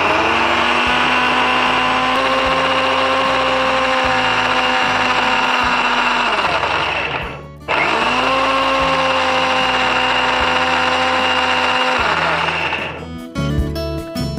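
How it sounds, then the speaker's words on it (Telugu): A kitchen blender whirs loudly through idli batter made with spinach and green gram, running steadily for about seven seconds, stopping briefly, then starting again for another long run before cutting off. "ఇప్పుడు ఇవన్నీ కలిపి బ్లెండ్ చేసుకుందాం."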